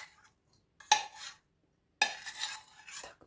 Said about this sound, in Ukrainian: Та додаємо сюди запарений рис.